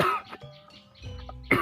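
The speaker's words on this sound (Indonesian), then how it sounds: "Batuk." A single harsh cough, followed by low throaty sounds and a strained, raspy vocal noise, ending with another sharp burst, close and brief.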